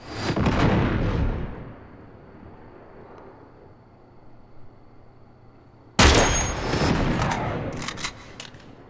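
Enemy gunfire in Uncharted 3: a loud burst of shots that fades into a quiet lull, then another sharp volley with rattling reports and rumbling echoes.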